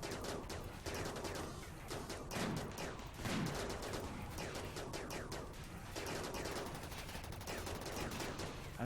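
Gunfire in the video game RimWorld (Alpha 15): rapid, dense volleys of shots and bursts crackle continuously at moderate volume, with no talking.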